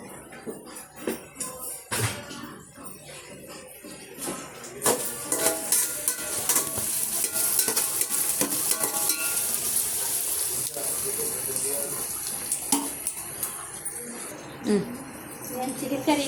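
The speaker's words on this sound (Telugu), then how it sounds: "ఒక 5 స్పూన్లు కారం వేసుకుంటున్నాను అండి. బిర్యానీది కొంచెం కలుపుకుంటున్నాను." Chicken curry frying in a pan as chili powder is stirred in, with a steady sizzle that rises and thickens midway, broken by occasional scraping stirs and clatters.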